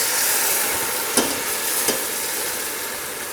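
Onions and garlic sizzle steadily in a hot pan as vodka is poured in, a broad continuous frying hiss with two brief sharp crackles midway, close and without talk.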